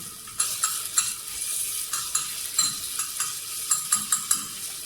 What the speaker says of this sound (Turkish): Salça sesini çıkardı.